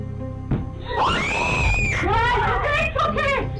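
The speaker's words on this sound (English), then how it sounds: "They scream." Several people scream loudly and shrilly in a haunted-hotel ghost setting, a sustained burst of overlapping cries lasting a few seconds with voices wavering up and down.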